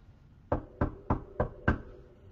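Five evenly spaced knocks on a door, sharp and fairly close, each a crisp rap with a short ring, in a quiet room with no voices.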